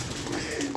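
Pigeons give a soft, brief cooing call, low and rounded, heard close against a steady background hiss with no speech.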